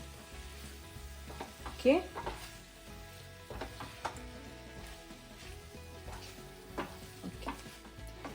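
Paneer jalfrezi masala frying and being stirred in a pan, a steady low sizzle with soft scraping strokes throughout and one brief louder clatter near the start, a voice briefly speaking once.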